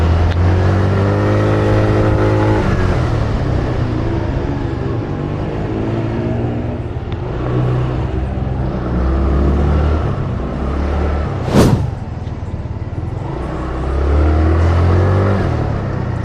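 An FKM Fyro 180 v2 motorcycle engine revs repeatedly, rising and falling in pitch in several bursts, loud and close, with a brief sharp click partway through.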